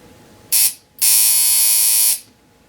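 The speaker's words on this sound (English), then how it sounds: "Now this will be the first time a tattoo gun has hit my skin since before 2000." A tattoo gun buzzes loud and close in two bursts, a short one followed by a longer steady whine lasting over a second, with quiet between.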